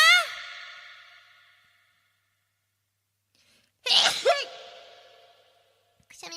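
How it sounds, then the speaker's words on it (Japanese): A woman sneezes sharply at the start and again, louder, partway through, each burst ringing out with a slight echo before fading into a sighing breath; a third short catch of breath comes at the very end. "くしゃみが出てしまいました。"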